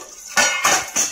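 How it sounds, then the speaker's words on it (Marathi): A metal kadhai is set on a stove before fish is fried, giving three sharp metallic clanks and scrapes in quick succession, close by and with no talking. "कढई ठेवले"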